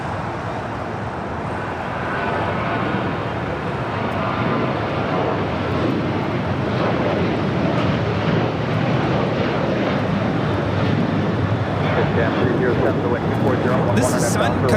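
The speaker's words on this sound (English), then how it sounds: "This is Sun Country Airlines 424 taking off to Minneapolis on a 737-800" A Sun Country Airlines Boeing 737-800 takes off from LAX for Minneapolis, its loud engine roar swelling after a couple of seconds into a dense, steady rumble, with a voice talking partly over it.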